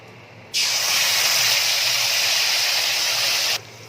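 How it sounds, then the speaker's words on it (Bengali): A mustard, poppy seed and green chilli paste hits hot oil with a sudden loud, steady sizzling hiss that lasts about three seconds, then cuts off abruptly, close up and with no talk. "এই পেস্টটা এবার তেলের মধ্যে দিয়ে দেবো"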